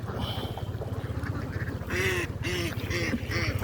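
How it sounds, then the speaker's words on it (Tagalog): Large flock of domestic ducks on a farm of about four thousand birds, a dense continuous chorus of overlapping quacks with a few louder nearby calls standing out. "Yan po ang itik niya."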